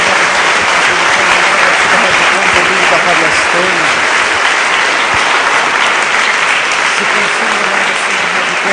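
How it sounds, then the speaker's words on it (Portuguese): A church congregation applauds loudly and continuously, a dense wash of many hands clapping at close range with voices mixed in throughout. "Uma salva de palmas a Jesus."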